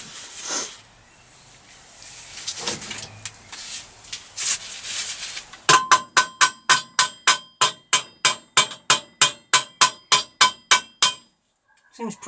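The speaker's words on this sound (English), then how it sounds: "Tap tap tappy hammer." A hammer taps metal on a 1991 Kawasaki ZZR600 motorcycle in a quick, steady series of about twenty sharp, ringing strikes, preceded by scraping and handling noises.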